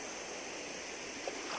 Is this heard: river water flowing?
yes